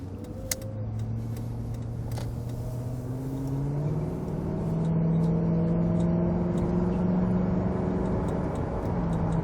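A car driving along a road, its engine hum rising in pitch as it accelerates and then holding a steady drone, with faint road noise underneath and no voices.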